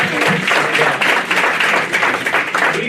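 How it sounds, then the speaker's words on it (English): Dinner audience at an annual support network event applauding the women, a sustained wash of many hands clapping, loud and close, with no voices over it. "I have to send out a round of applause for the women"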